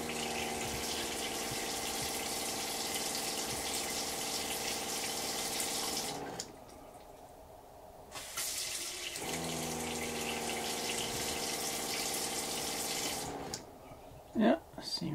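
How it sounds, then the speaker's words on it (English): An RV fresh water pump runs with a steady hum and water flowing from a tap, cutting out briefly around the middle before starting again and running on, loud and close. "Guess I better give the pump a test."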